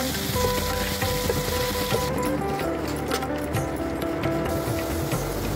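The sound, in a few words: cooked gongura dal stirred into sizzling tempering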